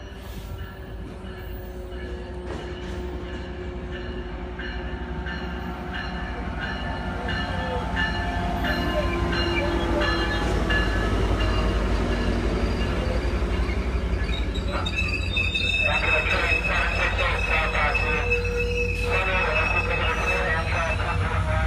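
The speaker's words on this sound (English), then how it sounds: "Here, a southbound surfliner comes in." A southbound Amtrak Pacific Surfliner pulls into Oceanside station, its rumble building steadily to a loud close roar with squealing wheels and a tonal brake or horn-like whine toward the end, with people talking.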